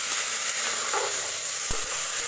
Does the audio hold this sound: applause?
no